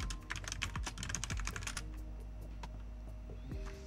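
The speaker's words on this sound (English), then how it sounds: "let's go back and retype our stuff." Fast typing on a computer keyboard, close and clicky, in a quick burst of keystrokes that slows to a few isolated taps over a low steady hum.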